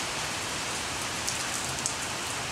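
Steady rain falls on surfaces with a dense, even hiss of drops, close and continuous for a couple of seconds, with no voices.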